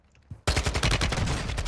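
A loud burst of rapid automatic gunfire in Call of Duty Warzone 2 erupts suddenly after a short quiet moment, with dense, fast repeated shots continuing to the end.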